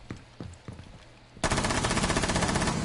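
Rapid automatic gunfire from a video game erupts halfway through as a loud, continuous burst, preceded by a few sparse single shots and soft clicks.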